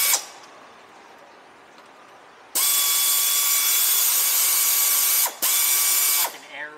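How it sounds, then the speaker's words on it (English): An air ratchet spins off bolts under a C6 Corvette during an automatic transmission filter service, giving loud, steady pneumatic whirring bursts after a quiet start, with one short break and a clicking wind-down at the end. "Fucking air ratchets."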